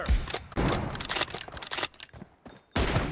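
Gunfire in PUBG Mobile comes as a burst of rapid close shots, with several sharp cracks and short pauses between clusters, loud and unaccompanied by talk.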